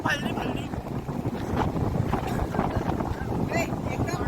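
Wind blowing outdoors during a family outing in bad weather, gusting against the microphone in rough bursts while people talk throughout.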